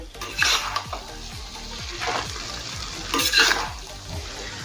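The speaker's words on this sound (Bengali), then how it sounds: "নুডলস এখন গ্রেভির সাথে মিশিয়ে নেব।" Noodles being stirred into a pan of chilli paneer gravy, with scraping, clattering strokes of a utensil against the pan repeating over a soft sizzle, close and moderately loud, with no talking.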